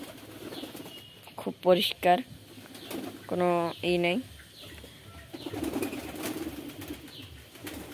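Inside a pigeon house at night, freshly bathed pigeons give low murmuring coos with a brief flutter, heard under a man's nearby speech that comes in short bursts.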